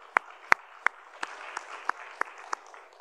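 A congregation at a Korean church sermon answers with a few scattered claps, roughly eight distinct sharp hand claps spaced unevenly over a faint background hum, nearby and moderately loud.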